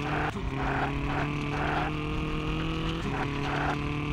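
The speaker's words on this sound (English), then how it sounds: "it sounds like an engine sound left from Gran Turismo 2" Rally car engine from the WRC 4 racing game drones steadily and loud throughout, with a held tone that shifts pitch as gears change, no talk over it.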